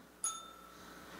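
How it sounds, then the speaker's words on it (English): A single strike of a little hand bell rings out clear and bright, then fades quickly in a quiet room. "At 6 minutes, I'm going to ring a little bell that sounds like this."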